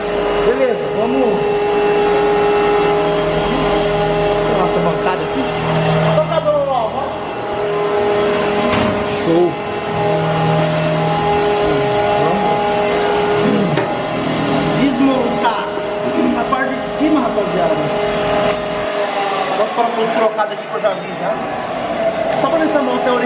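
A motorcycle engine with an aftermarket exhaust still fitted with its dB killer revs repeatedly nearby, a raspy buzzing drone rising and falling as people talk over it.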